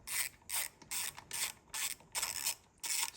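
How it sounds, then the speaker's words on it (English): A ratchet working a mirror bolt loose, seven or eight crisp rhythmic bursts of clicking close up, each separated by short pauses. "You just pull this bolt out."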